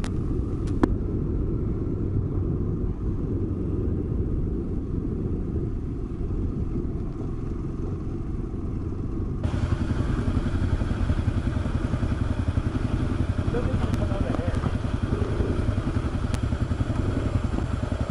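Kawasaki KLR adventure motorcycle riding a trail near Granite Lake toward Cloyne, its engine rumbling steadily close up with a downshift partway through, then running louder with clatter and thumps from the rough ground.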